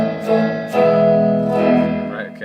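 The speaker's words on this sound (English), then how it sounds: "we're going to hear no dry signal, just the reverb." A sustained, washy reverberated tone with a metallic, splashy tail, with swells and decays layered over steady harmonic notes.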